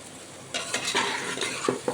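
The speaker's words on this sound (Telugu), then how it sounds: "సిమ్లో పెట్టి వేయించుతున్నాం కదా సో ముక్క మెల్లిగా లైట్గా వేగింది" Pumpkin pieces frying gently over a low flame for a pumpkin sweet, with soft sizzling and a few light scrapes and clinks of a spoon stirring in the pan, close by.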